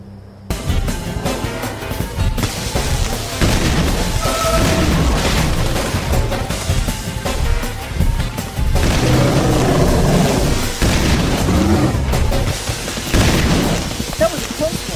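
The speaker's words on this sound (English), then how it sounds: "My father's shotgun." Loud booming shotgun blasts from a father's shotgun in the survival horror game Obscure the Aftermath, firing repeatedly over a dense, continuous din of game action, with voices occasionally talking.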